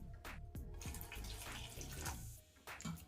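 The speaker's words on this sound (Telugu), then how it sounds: "వాటర్ వేసుకుందాము." Water is poured into gram flour batter for mirch bajji, making soft, faint splashing and gurgling in small repeated pours, each followed by a low, muffled slosh.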